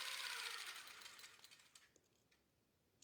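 Longarm quilting machine stitching along a ruler template, a close whirring stitch sound that fades and slows to a few soft mechanical ticks.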